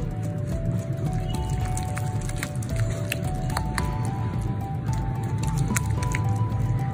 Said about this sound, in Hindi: अब हम इसको अच्छी तरह मिक्स करेंगे ये सारे मसालों को